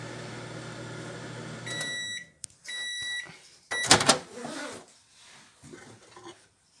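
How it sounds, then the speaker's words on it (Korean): A microwave oven heats injeolmi-flavoured hoppang steamed buns with a low steady hum, then gives two sets of high electronic beeps, followed by close handling clatter and a sharp door clunk. "한번 전자레인지 돌려서 먹을게"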